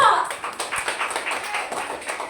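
A church congregation at a Sunday service clapping in praise, a dense patter of hands under a voice speaking at the start, fairly close and continuous.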